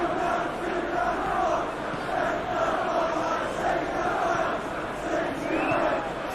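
A roaring stadium crowd in the eFootball 2021 FA Cup Final between Chelsea and Manchester City, a constant loud wash of cheering and chanting that runs unbroken throughout.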